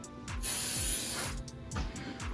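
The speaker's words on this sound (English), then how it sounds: "I use the clear acrylic sealer to just spray in the container at first" Several short hissing bursts of clear acrylic sealer sprayed from an aerosol can into a candle mold container, close by, one long spray followed by quicker ones.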